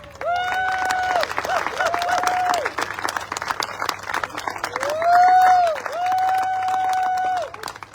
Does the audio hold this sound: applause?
yes